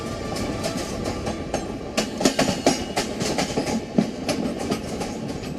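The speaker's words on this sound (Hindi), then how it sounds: "ये ट्रेन एक बार फिर अपनी मंजिल की तरफ रवाना हो गई।" Coromandel Express passenger train running along the tracks near Bahanaga Bazar station in Balasore, with a steady loud rumble of rolling wagons and rhythmic clickety-clack wheel beats.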